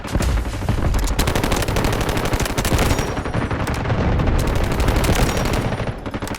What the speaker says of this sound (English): Guided missiles launched.